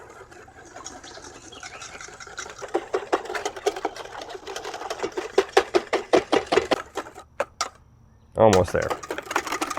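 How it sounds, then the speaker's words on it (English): A whisk beats cream with brown sugar and vanilla in a bowl, quick rhythmic clinking strokes that speed up and then stop, followed by a short remark from a person. "Brown sugar, a little bit of vanilla, not too much because it's expensive, just need just a little bit, just like that. Give this a good whisk."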